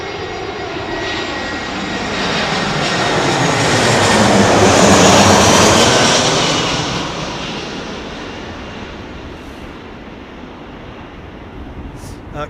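An Airbus A350 on approach to Heathrow Airport, its engine roar swelling loud and close as it passes, then easing into a steady fading rumble.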